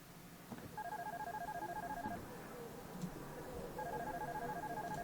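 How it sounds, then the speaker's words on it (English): A phone rings in the horror adventure game Darkness Within, a steady repeating electronic trill in two bursts separated by a pause, moderately loud over a faint hum. "Answer that phone."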